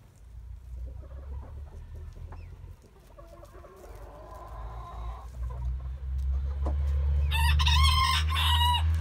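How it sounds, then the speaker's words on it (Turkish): A rooster crows in a backyard chicken coop, a loud close crow near the end over low steady hum, with scattered clucks and rustling from other fowl earlier and no speech. "Horozumuz bu arkadaşlar."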